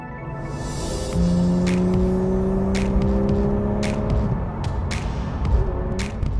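A Porsche 991.2 GT3 Clubsport drives by, its engine note rising through clear gear-like tones before tapering off, with sharp intermittent clicks and road noise around it and no voices.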